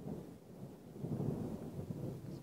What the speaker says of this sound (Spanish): Escuchen los truenos.